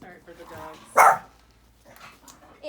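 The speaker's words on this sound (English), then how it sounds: "Sorry for the dogs." A dog gives one loud, sharp bark during a clothing unboxing indoors, set between stretches of someone talking and with fainter household sounds behind.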